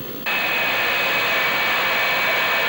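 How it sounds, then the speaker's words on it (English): An RF-4 Phantom jet taxiing toward the runway at Standiford Field in Louisville. The engine roar rises abruptly to a loud, constant hissing whine with a high steady tone, heard up close. "As our plane taxis from the tarmac to the runway at Standiford Field in Louisville"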